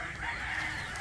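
A young rooster, a stag, gives one short, loud, hoarse crow, close by and alone.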